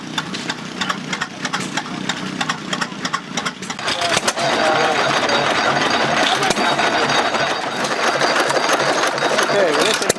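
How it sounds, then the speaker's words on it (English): A vintage Sears Sparta Economy engine runs with a rapid mechanical clatter and ticking at an outdoor engine and tractor show, growing louder and busier midway, with people talking in the background. "this engine here is what's called a Sparta economy, and these were sold by Sears"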